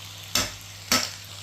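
Two quick scraping stir strokes through Japanese-style squid adobo in a pan, each a short swish about half a second apart over a low, steady sizzle.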